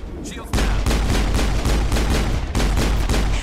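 Sustained heavy gunfire in the shooter Mass Effect, a dense rapid rattle of loud shots with deep booming bursts, continuous and close after a quiet start.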